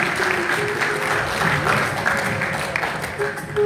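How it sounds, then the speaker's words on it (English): Sustained crowd applause rings out at a temple prayer event in Mount Edgecombe, a dense wash of many hands clapping steadily, with faint voices and a thin tone mixed underneath. "Let's give a huge round of applause for Devi Santri Gavanda."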